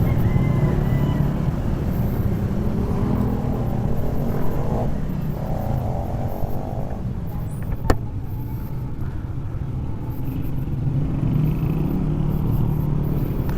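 Road traffic streams past a Fortress 160 motorcycle in motion, a continuous rumble of engines and road noise that holds steady, with one brief sharp knock partway through.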